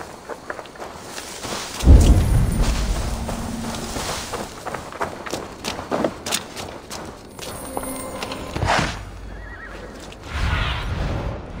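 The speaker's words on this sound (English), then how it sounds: "Now to deliver Magni his horse" A horse in a video game whinnies loudly, with snorts and hoof clatter following over several seconds, close and clear in a quiet setting.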